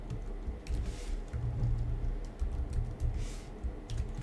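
Typing on a computer keyboard while entering a password into a web form, soft irregular key clicks under a low hum, close and without speech.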